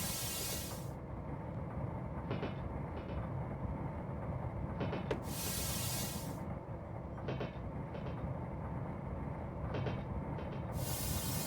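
Sacramento Northern interurban electric train in a railway simulator game, slowing toward a depot stop, with a steady low rumble of wheels and motors and repeated bursts of hissing air releasing at regular intervals.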